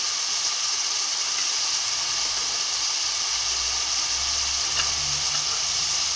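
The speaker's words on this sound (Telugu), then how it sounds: "ఆనియన్స్ కొంచెం మగ్గాలండి" Onions sauté in a hot pan with green chillies for a homemade egg curry, giving a steady, dense sizzle that holds evenly throughout, with a faint low rumble underneath.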